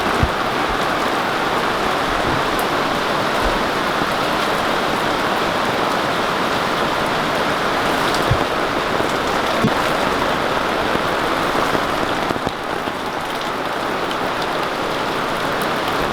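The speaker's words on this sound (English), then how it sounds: "It is pouring down" Heavy rain pours steadily onto a sailboat's sun cover, a dense, loud, unbroken drumming hiss that holds for the whole stretch with faint scattered drips and no voices.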